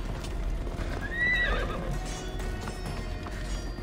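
A horse in the Assassin's Creed Odyssey video game neighs loudly with a rising whinny over steady clip-clopping hooves, set against a continuous low game ambience.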